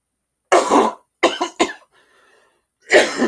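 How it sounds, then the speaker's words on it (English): Loud, close coughing in a few harsh bursts, with a brief quiet pause before one more cough. "I shouldn't mute that when I'm coughing"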